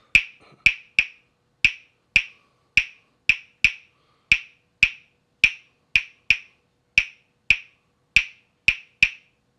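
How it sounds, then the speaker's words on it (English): Rumba clave pattern tapped at a brisk tempo, about seventeen sharp, dry clicks in repeating groups with uneven spacing, close and alone with no voices. "So at a faster tempo, the clave part would sound like this."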